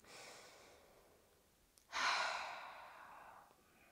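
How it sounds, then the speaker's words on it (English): Slow yoga breathing: a quiet inhale through the nose, then a louder, longer exhale out through the mouth that fades gradually, close and alone with no talking. "take a few inhales through your nose and exhales out your mouth"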